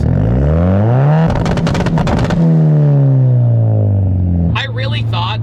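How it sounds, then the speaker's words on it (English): A Hyundai Genesis Coupe 2.0T, turbocharged with a full Tomei exhaust, revs up loud and close through climbing gears, with a burst of rapid crackle midway and a steady drone as a voice talks briefly near the end. "It's got a Tomei exhaust all the way from the front to the back, and honestly, it sounds really nice."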